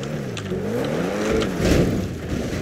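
A car engine revs loudly in GTA 5, a steady, sustained roar with rising and falling pitch that swells near the end, heard alone and close.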